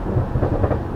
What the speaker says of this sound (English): but when you've got upshifts that sound like this,